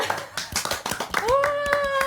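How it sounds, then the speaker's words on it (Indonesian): A small group claps in a quick, uneven burst of sharp hand claps close by, while a voice speaks over the end. "Oke, tepuk tangan."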